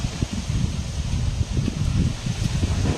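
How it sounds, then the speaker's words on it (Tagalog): Strong wind buffeting the microphone in low rumbling gusts, steady and fairly loud throughout, with no talking. "lakas pa rin ng hangin"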